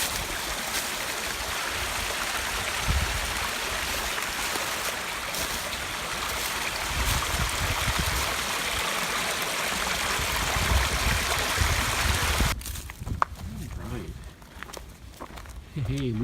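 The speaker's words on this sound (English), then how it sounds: "Just cute little waterfalls." Small waterfalls on a mountain stream along the Appalachian Trail near Hog Camp Gap give a steady, broad rush of water, with footsteps and some voices over it, and the sound thins and fades near the end.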